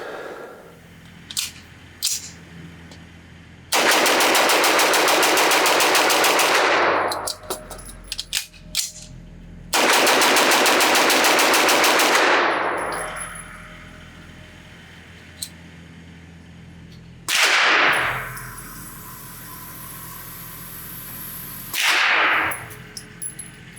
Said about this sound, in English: let me see if I can just shoot this gun fast in short bursts